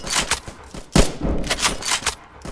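Rapid World War II gunfire in the Roblox game Trenches: a burst of loud, sharp shots in quick succession with a heavy thump near the one-second mark, continuing as an uneven volley.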